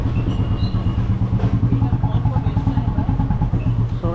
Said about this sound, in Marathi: आता मी बुलेट गाईज चालवतो आहे